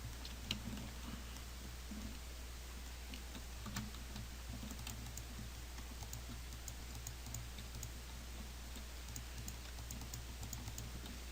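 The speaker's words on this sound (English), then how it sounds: "I can hear you clicking." Computer keyboard keys and mouse buttons click steadily and quietly for several seconds over a low background hum, with no one talking.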